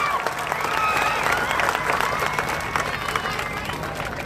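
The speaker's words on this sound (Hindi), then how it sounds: "आप लोगों से अदबन गुजारिश करता हूं कि ज़ोरदार तालियों से धुलिया की पुलिस के लिए" A public meeting crowd in Dhule applauds for the local police, a steady dense wash of clapping with some cheering and crowd noise throughout.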